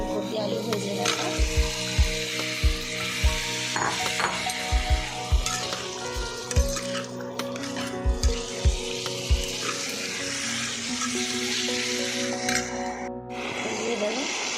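Pre-fried cauliflower and potato tipped into a hot pan with a run of heavy thumps and knocks, then a steady close sizzle and stirring scrapes, without speech.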